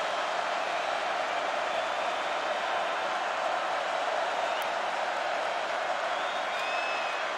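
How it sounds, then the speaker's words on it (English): A dense, steady roar from a college football stadium crowd during Pitt vs. North Carolina, with the student section behind the play; the broad, unbroken wash of noise holds at the same level throughout, with no distinct voices rising above it. "having to deal with some crowd noise"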